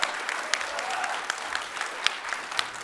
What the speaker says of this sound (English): Please give Lesley a big round of applause.